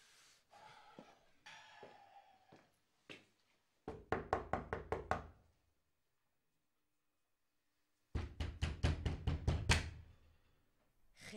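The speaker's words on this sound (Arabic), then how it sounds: "ليش عم تدق الباب؟" Rapid bursts of loud knocking on a door at night, two clusters of about seven quick raps each separated by a silent pause, following some scattered quieter thumps.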